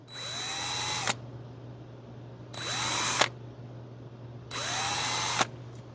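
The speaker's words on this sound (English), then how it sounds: "Now I have this drill bit sunk all the way down into here" A power drill bores pilot holes in pine for a simple box, three close, loud whirring bursts of about a second each, separated by short pauses over a low steady hum.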